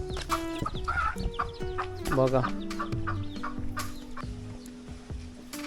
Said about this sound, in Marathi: इकडे कोंबड्या दिसत आहेत आपल्याला